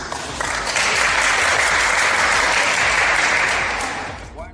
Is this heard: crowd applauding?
yes